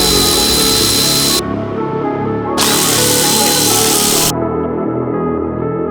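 A power tool whirs loudly and steadily up close while loosening the timing cover bolts on a 2020 Mustang GT, its high whine cutting in and out in two long bursts over a continuous motor drone.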